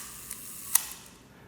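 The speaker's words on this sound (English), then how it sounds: "And then you can release the shutter." One crisp mechanical click as the shutter of a roughly 70-year-old Leica IIIf camera is released, close but fairly soft over a quiet background hiss.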